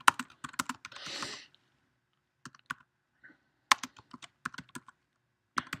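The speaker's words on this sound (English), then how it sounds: "typing in this address" Keys clicking on a computer keyboard in uneven bursts and pauses, close and fairly quiet, with a brief hiss early on.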